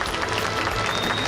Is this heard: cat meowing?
no